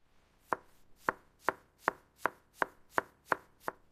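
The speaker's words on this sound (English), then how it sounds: "I am mincing the garlic." A knife mincing garlic on a cutting board, nine crisp, evenly spaced chops at a steady rhythm, close and clear in an otherwise quiet room.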